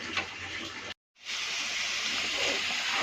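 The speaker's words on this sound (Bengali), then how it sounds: "একটু ঝোলটা ফুটে গেছে" Curry gravy with potatoes and egg bubbles in a pot, a steady close hissing simmer that drops out briefly and then resumes, with no talk.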